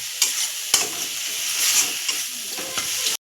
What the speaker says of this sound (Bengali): আমি খুন্তি দিয়ে দিয়ে ঘেটে দেব তাহলে তেলটা পুরো বেগুনের সঙ্গে মিশে যাবে